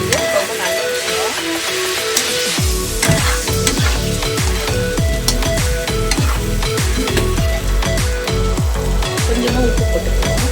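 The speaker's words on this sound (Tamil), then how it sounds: "பிரின்சஸ் வந்து மிக்ஸ் பண்ணிட்டு இருக்காங்க." A child stirs and mixes food in a sizzling pan at home, with a steady scrape of spoon against the pan over a continuous frying hiss after the first few seconds.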